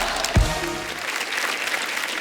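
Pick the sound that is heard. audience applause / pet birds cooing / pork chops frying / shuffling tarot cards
audience applause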